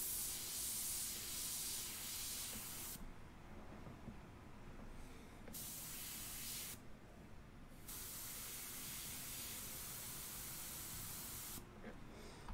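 An airbrush sprays paint during portrait work, giving a soft, steady hiss that stops and starts in several bursts with short pauses between, faint and even.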